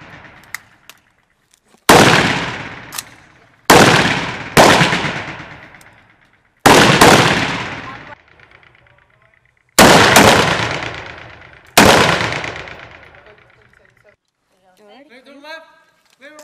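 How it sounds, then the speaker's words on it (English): Rifles fire on semi-automatic at a range, with six or seven loud, sharp shots spaced a second or two apart. Each crack rings out with a long decaying echo, and brief voices come near the end. "Safe to semi and fire at will."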